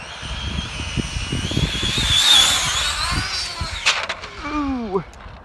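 A Traxxas Slash RC car on a speed run accelerates past, its high electric motor whine rising and then sweeping downward as it passes, with wind buffeting the microphone throughout.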